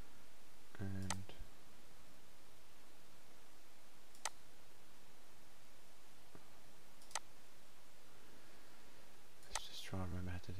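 A computer mouse clicks in the Azure portal: four sparse, faint single clicks spread several seconds apart, with brief voice fragments near the start and end.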